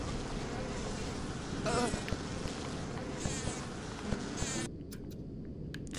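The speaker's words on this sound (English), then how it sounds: "Christ, bees." A swarm of bees buzzes in the video game Bioshock, a dense, continuous droning hum over steady background noise, cutting off abruptly near the end.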